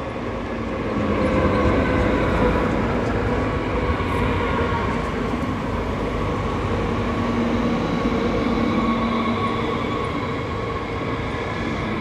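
Passenger train running between Düsseldorf and Essen, a steady loud rumble and hiss of wheels on rails with faint tonal whine, continuous and close throughout.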